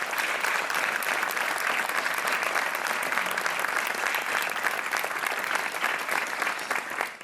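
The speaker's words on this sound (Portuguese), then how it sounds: "Um aplauso para o Miguel." A studio audience on the Portuguese TV quiz show Joker on RTP 1 applauds a contestant with dense, continuous clapping that holds steady and loud for about seven seconds before cutting off.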